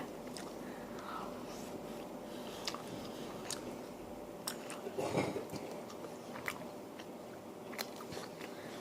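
Quiet close-up chewing of Japanese rice with curry, soft moist mastication and small bites over a faint room hum, with one slightly louder crunchy bite midway.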